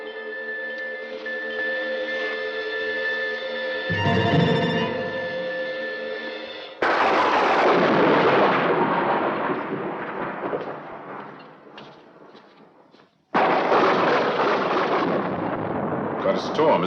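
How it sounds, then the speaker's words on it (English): Heavy thunder rolls through a stormy night in a 1970 horror film scene, with three loud, booming crashes, each decaying slowly, over a sustained orchestral music score. "Quite a storm, isn't there?"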